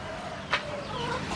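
Backyard chickens and a rooster in a home farm coop, a dense close chorus of clucking with one brief louder squawk in the middle.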